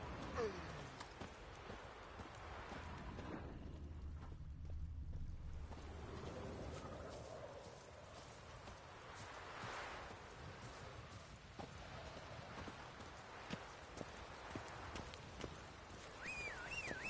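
The horse Roach's hooves thud in a repeated clip-clop rhythm in The Witcher 3 game, moderately close over a soft ambient bed of wind and water, with faint voices in the background.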